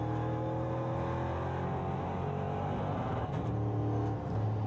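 Onboard a NASCAR race car lapping the Most circuit in Czechia, the engine droning steadily with a sustained throaty hum and slight pitch shifts through the lap, close and continuous with no talk.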